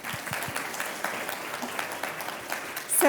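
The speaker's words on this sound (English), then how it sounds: "Another round of applause, please." A second round of audience applause for U.S. Congresswoman Valerie Foushee at a food summit, with steady crowd clapping sustained throughout and swelling slightly at the close.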